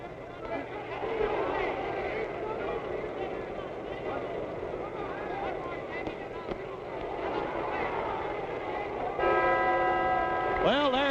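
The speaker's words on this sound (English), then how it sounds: "there's the bell ending round 8" A boxing bell rings to end round 8 of a heavyweight fight between two boxers, a few sustained metallic tones near the end over crowd noise and an announcer's talk.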